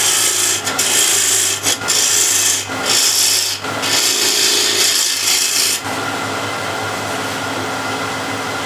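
A spindle gouge cuts into a spinning wooden workpiece on a lathe while the foot is cleaned up: harsh, scraping bursts of cutting broken by short gaps, then a steadier hiss and motor hum once the tool eases off.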